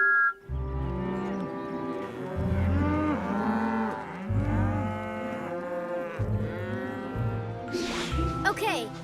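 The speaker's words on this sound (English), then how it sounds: "Yeah, the cows sure do like it." Several cows mooing on a farm in an animated children's cartoon, a series of long, deep, loud moos overlapping one after another, with a short burst of other noise near the end.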